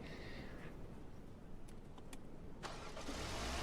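A car engine in the Roblox game Dusty Trip cranks and catches, then settles into a low rumbling idle that swells louder near the end, with no talking over it.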